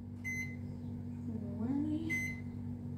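A running microwave oven hums steadily, and two short electronic beeps sound about two seconds apart over the hum.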